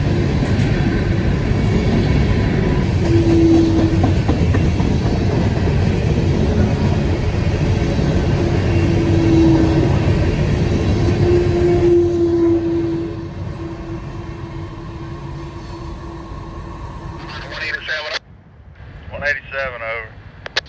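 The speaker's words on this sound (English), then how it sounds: "I was surprised to see an empty grain train on the rear of this coal train" Norfolk Southern coal train with an empty grain train on the rear passing close by, a loud continuous rolling rumble with wheel squeal, fading after about thirteen seconds, with a voice near the end.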